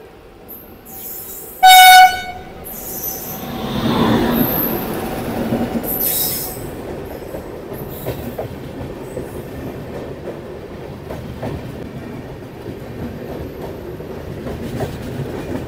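Aronai Express, a long-distance passenger train, approaches with a sharp horn blast, then thunders past close by in a steady rush of wheel and carriage noise with faint clickety-clack.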